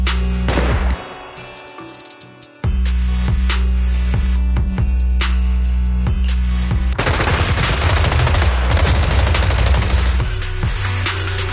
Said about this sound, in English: Suppressive marching fire.